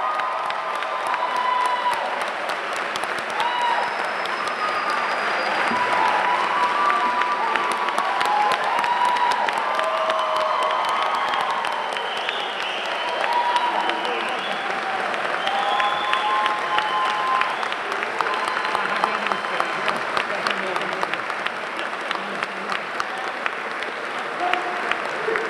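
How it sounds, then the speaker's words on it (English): A crowd applauds New Jersey City police officers at a July 2019 swearing-in ceremony, with steady sustained clapping and some cheering lasting throughout, loud and close. "How about a round of applause for our New Jersey City police officers?"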